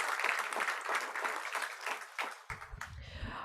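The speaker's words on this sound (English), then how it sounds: "we should all give each other a round of applause" Audience at an Indian aviation women's achievement ceremony claps in a dense, fairly quiet round of applause that thins out near the end, with some low rumbling handling noise at the close.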